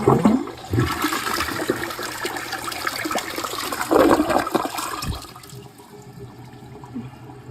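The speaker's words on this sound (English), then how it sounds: "Let's flush." A toilet flushes with a loud, close rush of swirling water that gurgles down and eases into a softer trickle as the tank refills, with no voices.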